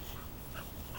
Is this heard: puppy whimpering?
yes